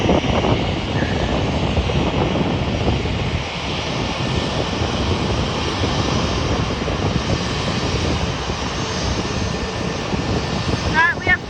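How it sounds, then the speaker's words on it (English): A Delta Airbus A321neo jet takes off at night, a loud, steady engine roar that fills the whole stretch, with wind buffeting the microphone throughout. "that's a Delta A321neo heading off to Detroit"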